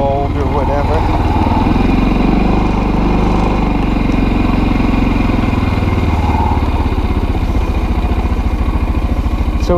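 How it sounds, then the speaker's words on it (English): A Kazuma Jaguar 500 4x4 ATV, its Keihin CV carburetor just rebuilt, idles with a loud, steady, close-up engine chug that keeps an even rhythm throughout. "So it seems to idle,"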